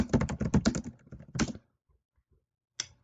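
A search is typed on a computer keyboard in a quick burst of close, crisp keystrokes for about a second and a half, then a pause, then a single late tap.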